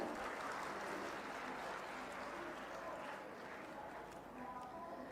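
Audience applause fills the stage area at the Gorakhpur festival, a steady, dense patter of many hands clapping at moderate distance that slowly tapers, with a voice speaking faintly beneath.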